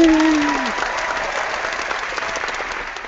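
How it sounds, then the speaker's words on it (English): Audience applause for a guest at an evening coding-education event, a broad wash of clapping that fades slowly over three seconds, with a brief voice at the start. "Everybody, John, big round of applause for Craig Yen"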